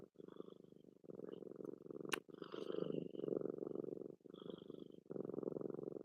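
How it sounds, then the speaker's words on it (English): A pet cat purrs steadily and loudly right up close, a continuous rumbling drone broken by brief pauses for breath, with a faint click partway through. "he's a loud purr"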